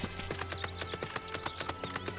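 A riding mount's hoofbeats in Final Fantasy XIV, a steady clip-clop of hooves at a brisk gait, evenly spaced and fairly close, running alone over a low game-music hum.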